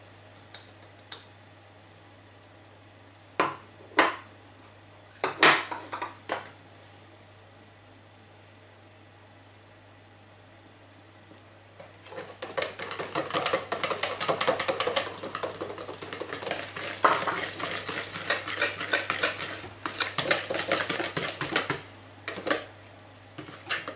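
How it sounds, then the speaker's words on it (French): Cornstarch being mixed with flour in a bowl for a Japanese cheesecake, a few isolated knocks followed by a long stretch of rapid, continuous scraping and clinking of a utensil against the bowl. "On va mélanger la fécule de maïs à la farine."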